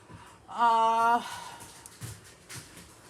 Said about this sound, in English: These two dogs are going at it.